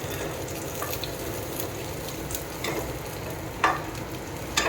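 Lentils frying in a pan with a steady low sizzle and occasional scraping stirs, close by and moderately loud with no talking.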